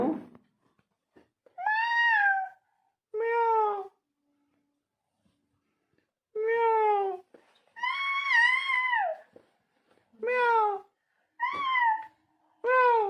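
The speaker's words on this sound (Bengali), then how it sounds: "বিড়াল আমার পেছনে বকছে" A cat meows repeatedly indoors, a series of loud, drawn-out calls arriving in irregular bursts with short silences between them.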